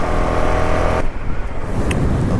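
Honda CRF450RL dirt bike ridden along a twisty mountain road, its engine a steady close drone with wind rush that drops abruptly to a rougher, lighter engine note partway through.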